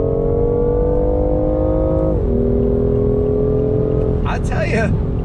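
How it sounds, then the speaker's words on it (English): A 2019 BMW i8 Roadster accelerates under throttle, its engine drone rising steadily in pitch with a brief dip at a gearshift, loud and close from inside the cabin, with a voice speaking briefly near the end. "Let me go ahead and get on throttle again."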